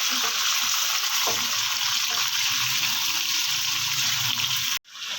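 Pieces of chicken fry in a pan with a steady, close sizzle and occasional stirring scrapes, then the sound cuts off abruptly near the end. No one speaks.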